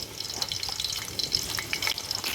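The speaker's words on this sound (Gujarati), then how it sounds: "ડુંગળી આપણે ફ્રાય થવા દઈશું" Sliced onions fry in hot oil for an outdoor farm-style Kutchi kharibhat rice dish, giving a steady, dense crackling sizzle that stays even and close throughout, with no talking.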